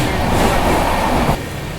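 Inside the Howrah–Puri SF Express while it runs: a loud, steady rumble and rattle of the moving coach that fills the space, easing slightly lower toward the end, with no talk.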